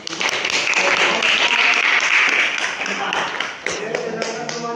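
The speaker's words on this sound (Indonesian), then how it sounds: "Tepuk tangan dulu." A classroom of students breaks into applause, a dense, loud burst of many hands clapping close by that holds steady for several seconds before thinning slightly toward the end.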